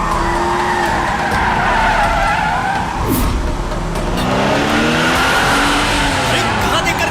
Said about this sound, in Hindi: कहां देखकर गाड़ी चला रहा है?